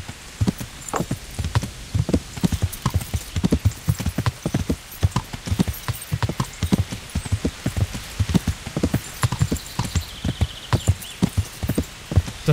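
Horse hooves clip-clop in a steady, even rhythm in the video game Kingdom Come: Deliverance, close and crisp, with a faint patter like light rain in the background.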